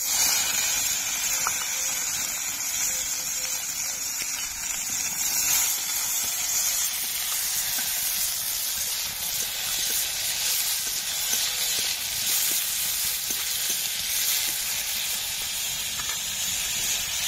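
Green chilies, onion and tomato fry in a pan, giving a continuous bright sizzling hiss with scattered crackles throughout, steady and fairly close, no talking.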